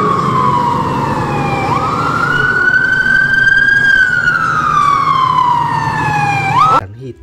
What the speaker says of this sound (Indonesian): Mobil truk tangga pemadam kebakaran berwarna merah putih